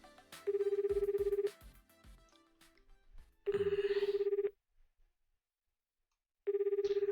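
A phone call ringing out in the visual novel game 9-nine-, three separate bursts of a steady warbling electronic ring tone, each about a second long, with short gaps and background game music between them.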